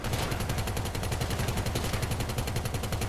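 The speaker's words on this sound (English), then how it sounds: "Can I fire this minigun? Oh, I can." A minigun mounted on a weaponized Tampa car in GTA V fires one continuous, rapid, loud stream of shots with a steady buzzing rhythm throughout.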